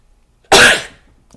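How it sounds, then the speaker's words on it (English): A single sharp sneeze bursts out close to the microphone, loud and brief, followed by near silence. "I have to sneeze."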